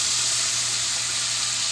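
Worcestershire sauce hits hot meaty butter and flour in a pan, giving a loud, steady, close sizzle and hiss that fills the short moment without talk.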